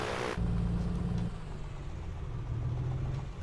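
A Piper Comanche 250 engine in the A2A flight simulator, a steady low rumbling drone of the engine running up for power checks, loud and continuous after a brief noisy start.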